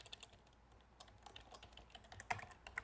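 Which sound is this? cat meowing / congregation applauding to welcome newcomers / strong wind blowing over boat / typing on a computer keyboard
typing on a computer keyboard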